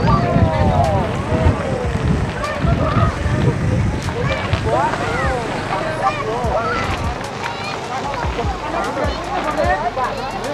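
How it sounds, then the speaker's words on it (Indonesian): Strong wind roars steadily into the microphone while a dragon kite is flown outdoors, a loud, continuous blustery rush with voices and honk-like calls layered over it. "Anginnya kenceng banget."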